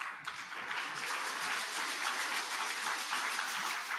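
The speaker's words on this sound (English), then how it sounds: "Another round of applause" Audience at a Malcolm X tribute event applauds steadily, a dense wash of clapping heard at a distance and fairly faint, with no talk over it.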